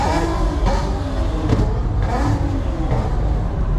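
A fast Toyota Supra race car at a Houston cars and coffee meet passes close by with a loud, rising engine roar and a few surging pulls over crowd ambience.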